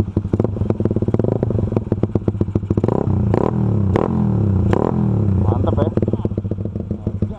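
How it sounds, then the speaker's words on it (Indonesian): A 2001 Honda Nova Sonic motorcycle engine idles loudly up close with a rapid throbbing pulse, then is revved in several sharp bursts midway before settling back to a fast idle. "Coba gua geber sekali lagi."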